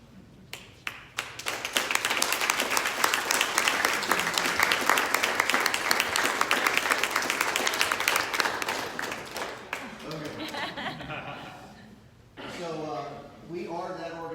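An audience at a human trafficking summit applauds, a dense burst of clapping that builds and then fades out, followed by a speaker talking.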